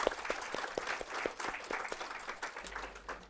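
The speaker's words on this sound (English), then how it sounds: "please give a big round of applause to Team TMD" Audience applause fills a foundation day celebration at CSIR-4PI, a steady wash of many hands clapping at moderate volume for about three seconds, with a few sharper individual claps standing out.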